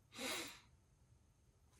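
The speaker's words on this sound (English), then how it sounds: "I can feel a sneeze building" A single sharp sneeze bursts out close and loud, then fades into quiet room tone with faint breathing.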